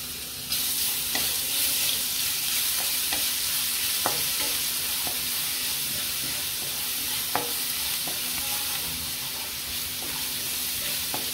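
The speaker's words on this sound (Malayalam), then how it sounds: "നമുക്ക് വെളുത്തുള്ളി ഇട്ടൊന്ന് വഴറ്റിയെടുക്കാം." Garlic sautés in three spoons of hot ghee for an egg biryani, giving a steady close sizzle with scattered spoon-stirring clicks throughout and no talk.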